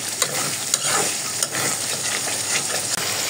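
Bengali masala paste with tomato sauce fries in oil in a pan with a little water for pangas fish kofta. The close, steady sizzle is broken by a few sharp stirring scrapes and pops.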